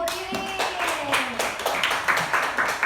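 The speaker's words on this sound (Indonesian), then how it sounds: "Tepuk tangan dulu untuk Ibu Ririn" A group claps for Ibu Ririn at a teachers' session. The clapping is close, loud and rhythmic, with brief speech mixed in near the start.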